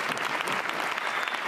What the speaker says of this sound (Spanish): Un aplauso para Mamá Vudú